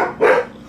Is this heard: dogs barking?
yes